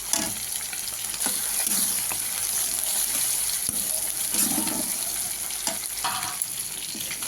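Crushed green chilli and garlic hit hot oil in a pan and fry with a loud, steady, close sizzle, while occasional spatula stirs and scrapes break through the hiss.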